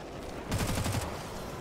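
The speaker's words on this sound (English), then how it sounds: "That was a huge explosion." An explosion in the video game Hellbreach Vegas bursts out as a loud, rumbling series of rapid blasts lasting about half a second, then fades into a steady background din.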